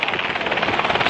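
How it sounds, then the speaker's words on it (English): A helicopter giving rides over the Bloomsburg Fair parking lot throbs in a fast, steady rotor chop, loud and close in a brief burst. "Sorry about the helicopter noise in the background."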